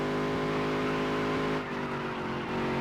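Race car engine at full throttle in a dirt-to-Daytona racing game, a loud steady high-revving drone with strong harmonic whine that dips briefly midway then holds on, with no voices.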